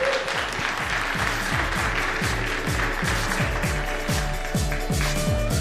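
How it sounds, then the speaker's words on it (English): Audience applause at the 2015 IESF StarCraft II esports world championship in Seoul, continuous clapping throughout under loud rhythmic thumping background music. "Can we get some applause for these guys?"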